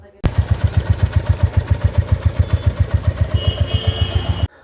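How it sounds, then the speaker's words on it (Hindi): A Royal Enfield J-series motorcycle engine, freshly fitted with a new clutch plate, runs at a steady idle with a loud, even thumping beat and a ticking mechanical clatter, close up and alone. "तो सुना आपने इंजन का नॉइज़"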